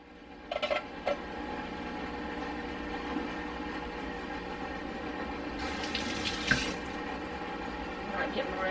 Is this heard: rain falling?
no